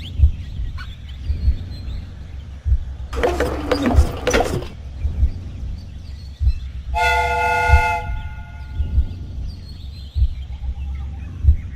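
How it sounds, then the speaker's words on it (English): A steam train whistle in the video game Sherlock Holmes: Crimes & Punishments blows once, a bright multi-tone shriek lasting about a second, following a burst of hissing steam over a low mechanical rumble. "The steam whistle is ready to be used."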